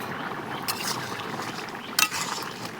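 A metal lid comes off a cooking pot of egg and pointed gourd curry, with a light clink early on and a sharper, louder clatter later, over a steady simmering hiss.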